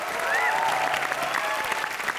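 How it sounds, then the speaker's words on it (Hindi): Studio audience on a TV entertainment show claps loudly and continuously, a steady wash of applause with faint voices and a brief whistle-like tone over it. "एक बार जोरदार तालियां बजा दो इसके लिए।"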